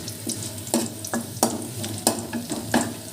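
Chopped onions and green chillies sizzle and fry in a pan, a steady close crackle with regular scraping stirs of a spatula and no talking.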